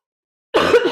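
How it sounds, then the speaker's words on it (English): Cough from someone speaking on a talk about helping anxious and depressed kids and teens: one short, close burst after silence, rough and throaty, lasting under half a second. "I am so sorry about the coughing."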